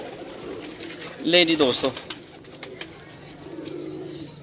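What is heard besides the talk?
Ferozpuri pigeons cooing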